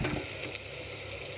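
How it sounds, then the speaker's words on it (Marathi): Boiled eggs fry in hot oil with whole spices for egg biryani: a soft, continuous sizzle with a brief stirring sound near the start, fairly quiet and close, with no voices. "अंडी उकडून तेलामध्ये टाकलेली आहे"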